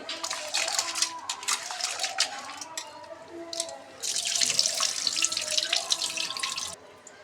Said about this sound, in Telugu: శుభ్రంగా పిసికి కడుక్కోవాలండి